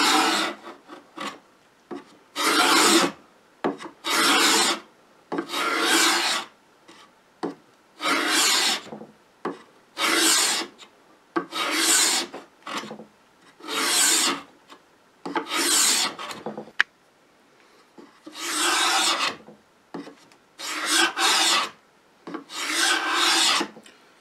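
A Stanley 66 beader scrapes a bead profile into wood in repeated strokes, each a harsh, close rasping pass of about a second with short gaps between, steady and rhythmic and heard alone without talk.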